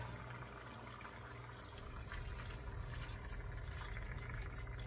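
Chicken stock poured over collard greens in a pot, a steady close liquid rush and splash running throughout over faint background noise.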